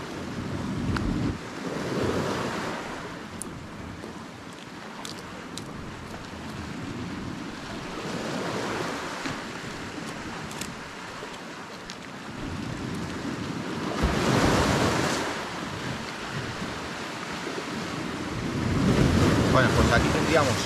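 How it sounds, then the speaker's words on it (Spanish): Sea waves stirred by a southerly wind off the Costa Blanca, a continuous wash of surf with swelling surges and steady wind rumble against the microphone, recorded from close by on the water. "Se ha empezado un poquito a mover el agua."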